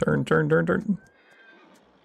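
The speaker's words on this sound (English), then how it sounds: "Hey, it's a pretty horse." A horse in the Farming Simulator 22 video game whinnies loudly in a short, quavering burst, followed by a faint high tone and quiet ambience; a voice is heard near the start.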